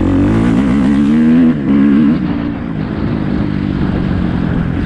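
A dirt bike that had sat unused for ten years runs loudly up close and revs in a couple of rising bursts, then drops back to a rough, throbbing idle. No voices are heard.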